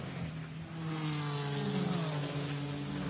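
GT4 race cars running nose to tail at Imola, a dense roar of engines blending together with shifting, layered tones that swell slightly as they close in.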